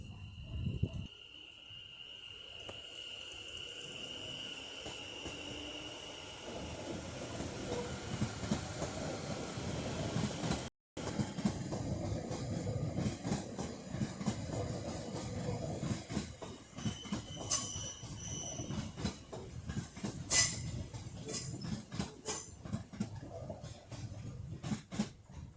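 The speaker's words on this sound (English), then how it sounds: "I'm just straightforward looking at the train, you know. And it's moving." A train rolls through Longbridge railway station, its wheels clicking and rumbling steadily over the rails at close range, with a brief high tone early and a few sharper clanks later as the cars pass.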